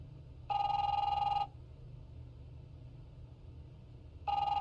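A telephone rings in the video game The Wolf Among Us, two loud electronic bursts about three seconds apart over a low steady hum.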